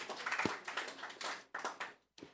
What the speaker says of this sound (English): We also like to give a big round of applause for Satel